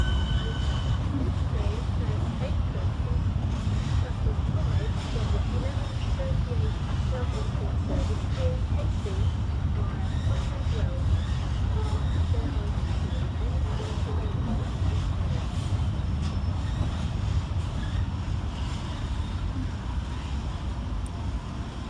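Southeastern class 465 and 466 electric trains rumble through London Charing Cross station in a steady, moderately loud wash of rail and platform noise that continues throughout.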